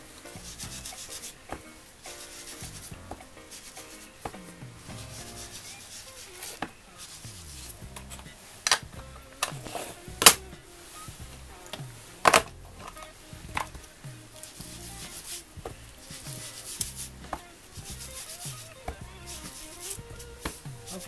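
Distress ink being rubbed onto paper through a mask with an applicator, a steady soft scrubbing and swishing with occasional sharper taps, close and fairly quiet, with no talking.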